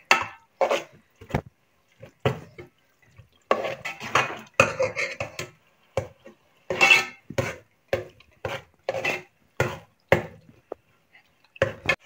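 Spinach frying in a pan, stirred with a wooden spoon, repeated close scraping and clattering strokes against the pan in an uneven rhythm with soft sizzling between them.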